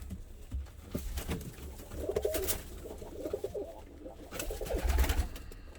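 Soft, low cooing from several pigeons or doves in a coop repeats over a rustling, muffled background, fairly close with no talking.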